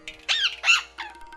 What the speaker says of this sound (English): Is that a parrot messenger?